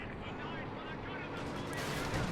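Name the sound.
light artillery barrage in video game Company of Heroes 2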